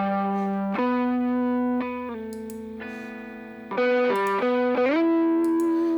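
Electric guitar run through overdrive pedals, including a Rat, in an ampless setup, playing sustained driven chords and single notes that shift pitch in steps, loud and close with a gritty, slightly chorused edge and no talk.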